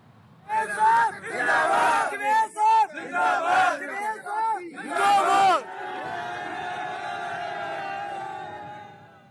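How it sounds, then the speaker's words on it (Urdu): Local residents in Haroonabad chant slogans for the police while hoisting a city station officer onto their shoulders, loud rhythmic bursts of many voices shouting together for about five seconds, then giving way to a sustained even tone. "اہل علاقہ ہیں انہوں نے SHO تھانہ سٹی ہارون آباد جاوید جوئیہ کو کندھوں پر اٹھا لیا اور پولیس کے حق میں نعرے بازی کی"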